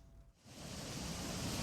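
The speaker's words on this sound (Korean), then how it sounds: "흙탕물이 계단을 타고 폭포수처럼 쏟아집니다." Muddy floodwater pours down a staircase in southwestern China like a waterfall, a dense continuous roar that swells in after a brief lull and stays loud to the end.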